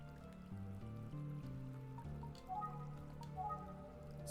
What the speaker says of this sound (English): Oh, a little river. A stream.